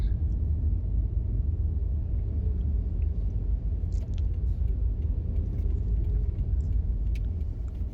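A car driving through downtown Tampa streets gives a steady, low road rumble and engine drone from inside the cabin, continuous and even throughout, with no talk.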